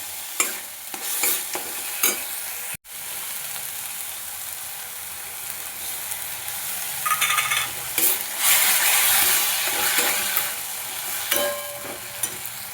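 Tomato paste frying with ginger and garlic in a pan for prawn malai curry, a constant close sizzle broken by repeated scraping and stirring strokes, one sharp knock near the start and busier stirring toward the end.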